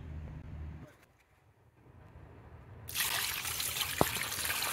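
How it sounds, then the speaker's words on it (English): After a quiet start, a bucket of water flushed through a car's blocked windscreen drain holes bursts into a steady, close rushing splash that continues to the end, broken once by a brief knock. "Let me get a bucket of water just to flush this through."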